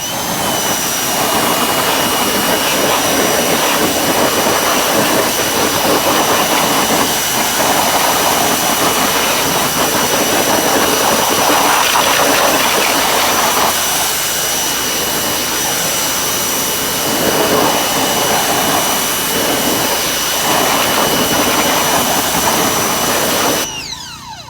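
Pressure-washer spray rinsing non-acid wheel cleaner off car wheels, a steady loud hiss with a high motor whine running unbroken for over twenty seconds before cutting off abruptly.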